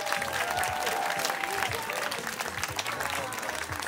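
A crowd applauds at a summer salsa festival, with dense, steady clapping and cheering that holds for several seconds and has a voice or music faintly mixed in.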